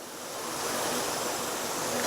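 A mixer grinder whirring as it grinds roasted peanuts with water for peanut chutney, a dense, steady high-pitched roar that swells slightly at the start and then holds constant, close and loud, with no talk.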